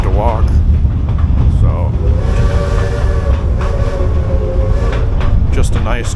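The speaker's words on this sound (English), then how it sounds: "Just ride in the train real quick so I don't have to walk." An amusement park train ride at Cedar Point rumbles and clacks steadily along its track, loud and close, with rattling cars and brief speech near the start.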